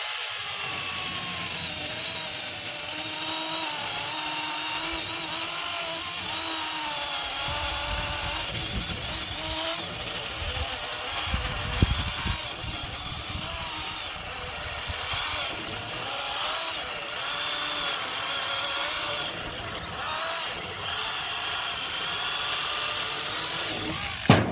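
A battery-powered pruning chainsaw whines at a high pitch while cutting wood, its tone dipping and rising under load. A thump comes near the middle, and the saw runs close and fairly steady.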